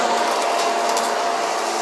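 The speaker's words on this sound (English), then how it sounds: "So watch when I vacuum up the dirt." Toro blower/vac with a metal impeller and a Worx trash can attachment, sucking up dirt: a loud, steady, close motor-and-airflow roar that holds unbroken throughout.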